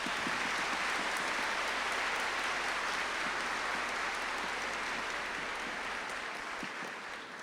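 Crowd applause at a high school graduation ceremony, a dense steady clapping from a large audience in a big hall that stays even throughout and eases off slightly at the very end.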